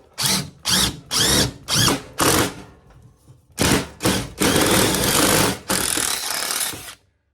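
A power drill bores a bolt hole in a rust-repair patch panel for a 1972 VW Super Beetle, sounding in five short loud bursts, a pause, then longer sustained whining runs before it stops.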